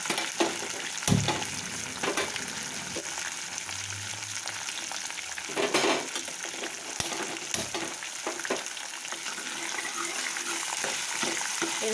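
Onions, garlic and curry leaves fry in a hot pan, a steady broadband sizzle with a few sharper crackles and spatula scrapes, close and continuous, no talking.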